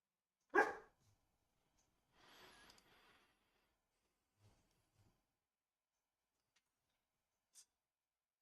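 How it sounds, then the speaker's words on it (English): A female dog gives one sharp, close bark near the start, then only faint scattered noises and a brief soft tick follow in a mostly quiet room. "You barking at yourself again, girl?"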